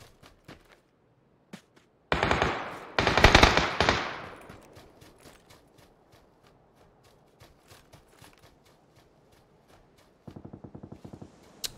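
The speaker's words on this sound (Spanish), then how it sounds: "No me queda muy claro dónde son los tiros" Video game gunfire: two loud bursts of automatic fire close by, then scattered faint clicks and light steps, and a final rapid burst of shots at a distance.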